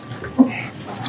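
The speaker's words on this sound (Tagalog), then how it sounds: "Hugasan na plato." Tap water running into a sink while plates are washed during toy kitchen pretend play, a steady close splashing stream with a brief louder gush near the start.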